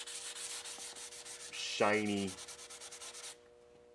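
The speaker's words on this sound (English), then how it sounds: "The reason why I'm sanding it down before I paint it" Sandpaper rubbing across a glossy plastic box to scuff it before spray painting, a steady close scratching rasp that runs for most of the clip under a brief spoken word, then stops.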